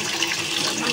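Water runs from a tap and fills a container in a steady, close rush of splashing that lasts the whole short moment.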